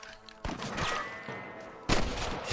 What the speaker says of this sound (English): There are snipers back in the Old West, actually.